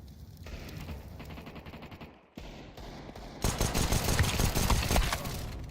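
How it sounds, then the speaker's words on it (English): Counter-Strike 2 gameplay with a flashbang thrown and bursts of rapid gunfire, loud crackling volleys growing denser toward the end. "I'm throwing a flashbang."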